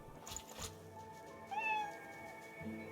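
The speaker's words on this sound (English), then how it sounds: "I hear you, cat." A cat in the video game Divinity Original Sin II meows once, a clear rising-and-falling call at moderate level over faint game ambience, with no speech.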